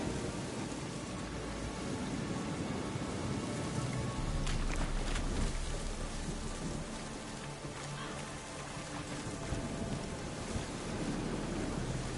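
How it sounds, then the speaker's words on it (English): A storm in The Witcher 3 brings steady heavy rain with a distant thunder rumble partway through, a constant dense wash of sound with no talking. "A storm, damn it."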